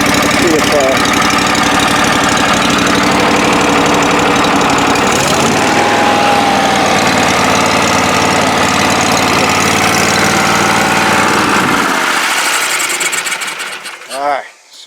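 A rebuilt Kohler EFI 745 engine idles at low speed in a loud, steady, rhythmic chug, with a voice talking over it before it stops abruptly near the end.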